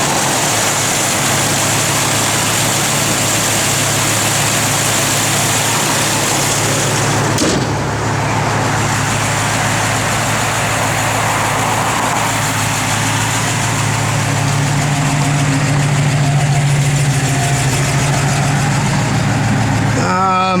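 A 1967 Pontiac Firebird convertible engine idles steadily and close by, with a steady low rumble and a faint high belt squeak running through it, no talk over it.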